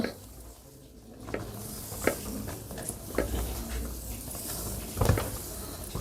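A ragi and sugar mixture stirred in a pan for milk ragi laddus, with soft scraping and scattered clinks of the spoon against the pan over a quiet background hiss.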